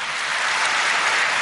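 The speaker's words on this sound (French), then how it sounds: "il s'est alors levé sous les applaudissements d'une salle apparemment plus conquise encore qu'avant cette rencontre" An audience in a hall applauds a speaker with steady, dense clapping that stays even and full throughout, with no voices over it.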